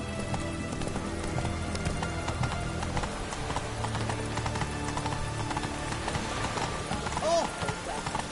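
A horse gallops in The Witcher 3, its hooves pounding in a fast, continuous beat close by, with a brief whinny near the end and speech over the running.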